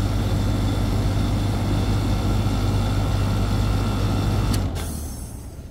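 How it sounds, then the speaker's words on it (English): An HVAC compressor runs with a steady, loud, droning hum during a refrigerant pump down. It shuts off near the end and the sound fades away. "the compressor sounds normal right now."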